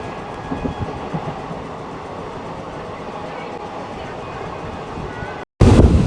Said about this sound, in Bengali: প্রথমবারের মতন ট্রেনের চাকা গড়ালো।